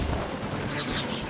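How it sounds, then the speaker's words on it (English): Fireworks attack in the video game Genshin Impact on PS4: a dense, continuous rumble of booming, crackling blasts fills the whole moment, loud and close, with a game voice faintly mixed in. "Here come the fireworks!"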